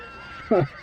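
A short, sharp horse whinny from the game Ultima Online rings out over a low background hum.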